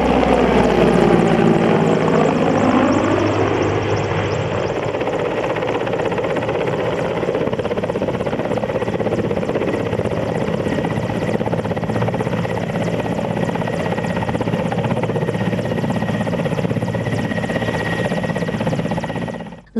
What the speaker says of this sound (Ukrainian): Знайомство юних джур з військовою технікою почалося з прильоту бойового вертольоту.